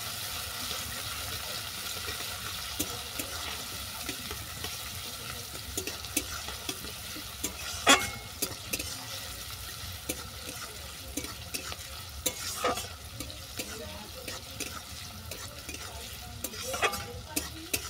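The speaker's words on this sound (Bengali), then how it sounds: "পেঁয়াজটাকে কিছুক্ষণ ভেজে নেব।" Onion frying in a pan for a cauliflower-stem and soybean mash, with a steady soft sizzle and repeated spoon stirs and scrapes, heard close and alone.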